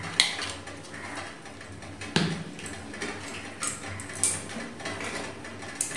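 Chocolate and butter melt in a pot over hot water while a spoon stirs, giving soft intermittent scrapes and a few sharper metallic clinks against the pot, quiet and close, with no talk.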